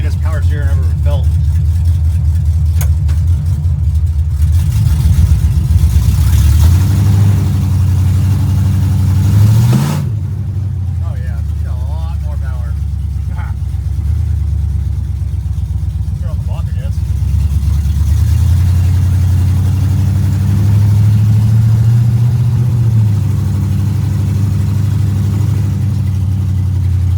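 A 1975 Pontiac Firebird Formula with a swapped-in LS V8 runs with a steady, loud low rumble, with one sharp rev about midway before settling back to idle, while people talk over it.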